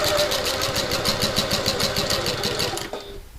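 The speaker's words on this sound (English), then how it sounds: "maybe I'll just sew along this whole bit just in case" A sewing machine runs a fast, even burst of stitching along a backpack seam for almost three seconds, then stops, and quiet room sound follows.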